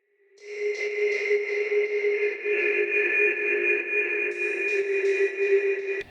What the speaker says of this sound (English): There's pretty sharp ringing, which we control with these reverbs or with these EQs.